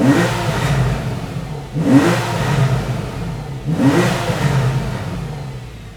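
A Porsche 911 Carrera S (991.1) engine revs three times in rhythmic surges to just above 7,000 RPM, each climb followed by a throaty exhaust burble, loud and close.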